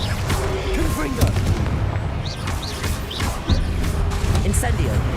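Confringo fire spells explode repeatedly in Hogwarts Legacy, a run of loud, close booms and crackling bursts mixed with other spell effects, with a voice talking over the action.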